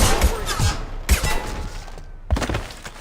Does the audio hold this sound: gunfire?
yes